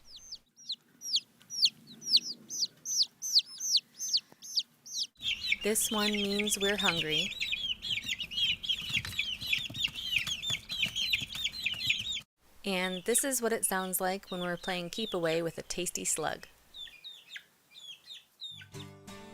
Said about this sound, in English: she learned how to decipher what we said in chicken